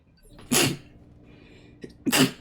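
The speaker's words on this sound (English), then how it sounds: "I have to sneeze." Two sharp sneezes, close and loud, separated by a short pause with a small sniff or breath between them.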